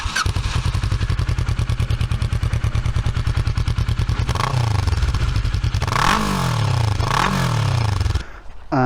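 Motorcycle fitted with a Scorpion Red Power slip-on end can exhaust, close up and loud, idling with a steady fast chugging pulse, then rising and falling through three sharp revs before cutting out.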